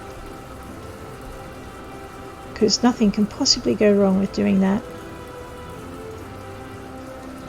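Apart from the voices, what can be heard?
rain falling in video game My Time at Portia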